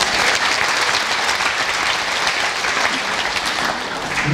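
An audience at a ceremony honoring earlier generations breaks into dense, continuous applause, a steady wash of many hands clapping at even loudness throughout with no voices on top.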